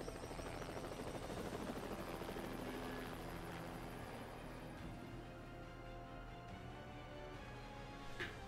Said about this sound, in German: ich hau einfach mal mit dem Helikopter ab.